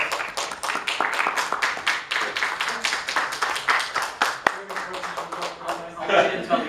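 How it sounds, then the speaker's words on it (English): A crowd at a public hearing claps steadily for several seconds, a dense run of close hand claps that thins toward the end, with voices underneath. "I'll wait until the applause stops."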